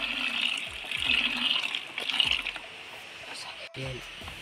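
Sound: water poured into cement to make grout

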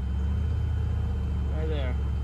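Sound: 1996 GMC K3500 6.5L diesel engine revving with stumble

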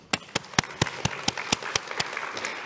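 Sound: audience applause

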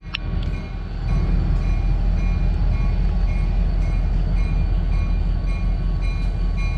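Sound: Cuyahoga Valley Scenic Railroad train departing the station

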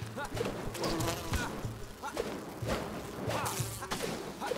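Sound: bees buzzing in Enshrouded video game

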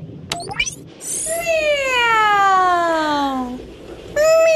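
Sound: ringtone of a cat meowing

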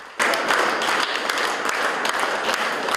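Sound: applause for the late maestro

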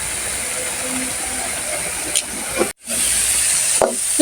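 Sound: red amaranth greens simmering, water evaporating

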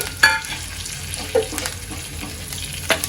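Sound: frying asafoetida, whole spices and curry leaves

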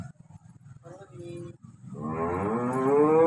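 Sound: cows mooing on a farm

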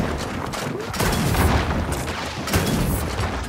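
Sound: gunfire in the video game Gears of War 4

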